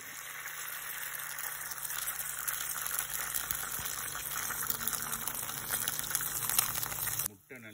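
Food cooks in a pan for a children's breakfast dish, giving a steady, close sizzle and bubbling that holds for several seconds with faint rattles and then cuts off abruptly near the end.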